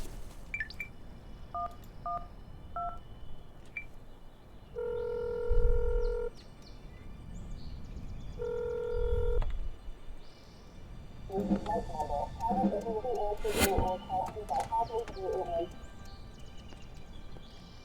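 Telephone keypad tones dialing the emergency number 112 in what sounds like a game, a few short beeps, then two longer tones and a burst of rapid signal tones, with talk and other noise underneath.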